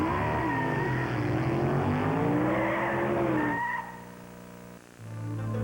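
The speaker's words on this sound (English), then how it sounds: "Driver, start your engine." NASCAR race cars roar past with a loud, sustained engine whine that rises and falls in pitch, then drops away into a lower rumble before building again.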